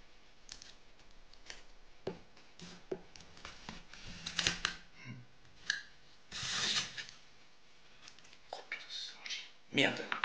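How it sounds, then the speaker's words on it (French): Wooden parts of an Altaya Belem model ship kit are cut out close up. Soft scraping and rasping mix with irregular small clicks, quiet and intermittent. "maintenant on continue à tout découper"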